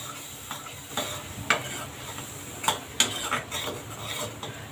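Masala for katachi aamti sautéing in a pan, with a continuous low sizzle and repeated scraping and clinking stir strokes of a metal spatula at an irregular pace, close up and without talk.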